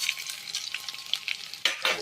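Coriander and cumin fry in a pan with a soft, crackly sizzle, stirred in brief scraping bursts that grow louder near the end, close and without speech.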